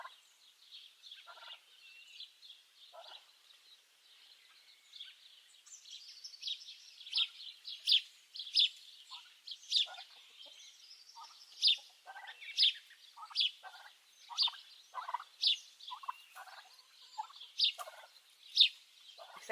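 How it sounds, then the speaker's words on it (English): Turkeys gobble near chickens on a small farm. Quiet chirping calls at first build into a steady run of loud, repeated gobbles coming every second or so, close by, with no voices. "The turkeys really love to hang out near the chickens so that they can visit."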